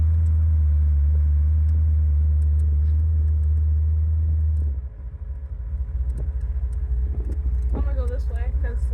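Car engine rumbling low and steady, then shifting in tone as the car powers through a turn, with voices talking over it near the end.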